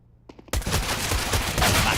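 Mac-10 submachine gun fire in a Counter-Strike match, a faint clicky lead-in followed by a sudden loud burst of rapid shots that continues densely for the rest of the moment.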